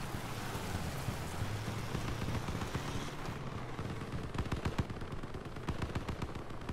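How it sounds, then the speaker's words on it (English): Enemy gunfire in the vehicular combat game Crossout rattles at moderate distance, a steady wash of engine and battle noise giving way to rapid, sharp bursts of shots near the end, with no talking. "Oh, stop shooting at me!"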